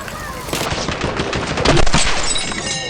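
Rapid automatic gunfire in the shooter game Battlefield 6, dense continuous bursts of shots that swell louder midway, with no talk over them.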